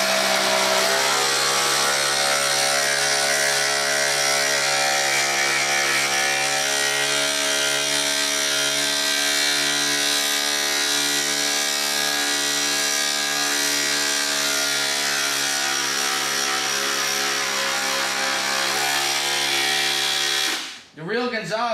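A cordless reciprocating saw, Milwaukee M18 Fuel or DeWalt FlexVolt, runs steadily for about twenty seconds as a loud, even whirring hum, then winds down abruptly at the end.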